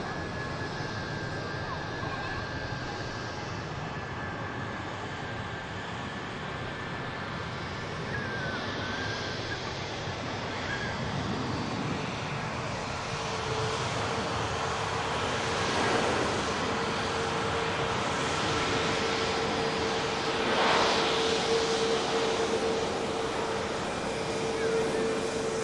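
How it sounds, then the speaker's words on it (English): A Ryanair Boeing 737 Max 8200 climbs out from Manchester Airport, its jet engine roar a broad, distant rushing that slowly builds and stays steady over about twenty-five seconds. "Fly 1 climbs out. Ryanair Max 8200"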